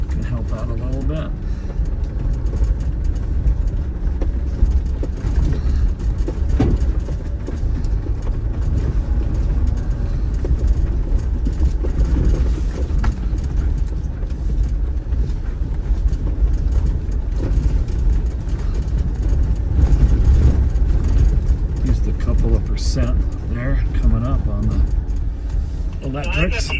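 A Jeep Wrangler 4xe hybrid crawls along the Rim Rocker off-road trail, its engine a steady low rumble throughout while someone talks over it.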